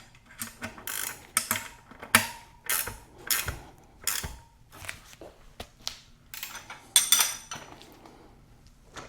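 Repeated ratcheting clicks from a tool tightening the wheel nut on an old Huffy bicycle. The clicks come in short, uneven bursts with metallic clatter between them, close and fairly loud.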